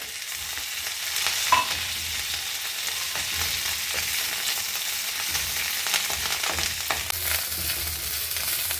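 Coriander leaves sautéing in a hot pan for a root chutney, a steady close sizzle with occasional stirring scrapes, continuous throughout.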